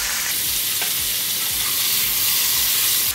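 Thinly sliced beef brisket (woosamgyup) sizzles and fries in chili oil in a pan, with a dense, continuous crackling hiss and periodic soft scraping strokes of stirring, close and loud with no voices.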